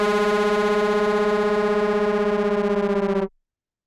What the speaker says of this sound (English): we've got some distortion going on here